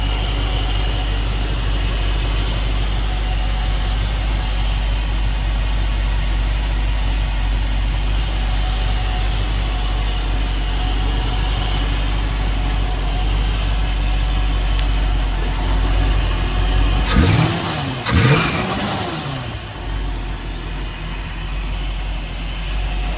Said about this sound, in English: Runs pretty smooth once it starts warming up a little.